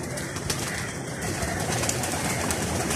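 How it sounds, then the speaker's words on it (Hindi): Pigeons kept alongside chickens and quail at a home pet enclosure coo softly in a noisy outdoor setting, low murmuring calls partly buried in steady background noise. "अभी सब कबूतर भी नीचे आ जाएंगे।"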